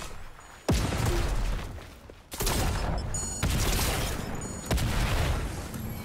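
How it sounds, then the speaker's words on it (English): Explosions and gunfire in Fortnite: loud, crashing blasts hit in several separate bursts, each followed by a rough roar of gunfire that fills the gaps between them. "Explosion."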